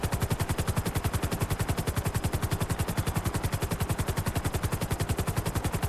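Helicopter in GTA V on a FiveM server: a loud, steady, rapid rotor chop that pulses evenly throughout with engine whine underneath, with no talking.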